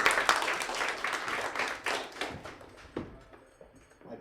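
Audience applause at a tech event, a dense patter of handclaps rising strongly then thinning and tapering away over a few seconds, moderately loud and fairly close.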